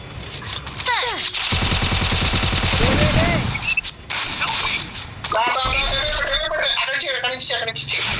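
Bursts of rapid gunfire crackle from a video game, overlapping with excited voices talking and shouting throughout.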